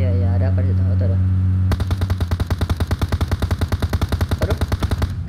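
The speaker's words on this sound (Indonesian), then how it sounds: "Kabur aja deh, temen gue malah nembak lagi." Rapid automatic gunfire from a PUBG Mobile battle: a sustained, loud burst of evenly spaced shots that starts sharply and runs to the end, following a short stretch of talk over a steady hum.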